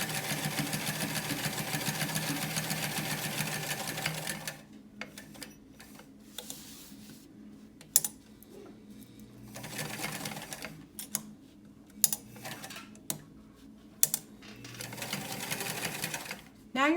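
Sewing machine stitching through several thick layers of fabric on a waterproofing project, a steady close whirring that runs continuously at first, then breaks into short bursts with pauses and clicks.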